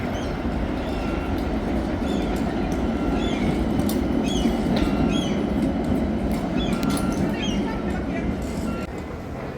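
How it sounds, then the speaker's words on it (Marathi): A pink tram rolls past nearby in front of the railway station in Helsinki city centre, with a steady rumbling clatter and occasional squeaks, while people talk over the noise. "ही बघा ही आहे ट्राम"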